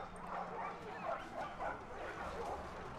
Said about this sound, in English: As our dogs fly into combat against the enemy cavalry.